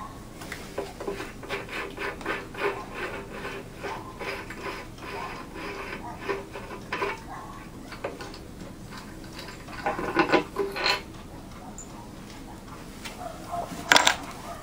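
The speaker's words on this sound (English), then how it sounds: "so we'll pull the cam gear out real quick" Cam gear being pulled out of a Hercules 2.5 HP engine during disassembly, close-up metallic scraping, rubbing and light clanks in irregular bursts, with a sharper knock near the end.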